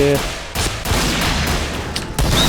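Rapid bursts of video game gunfire from a gun bought with cash currency in a zombie shooter, loud and dense with sharp cracks repeating over roughly two and a half seconds.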